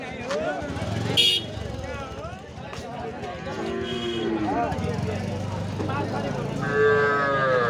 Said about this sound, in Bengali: বকনা বাছুর।